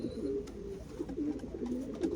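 Young racing pigeons being readied for one-loft races coo steadily in a loft, with soft, repeated throaty calls close by and no talking.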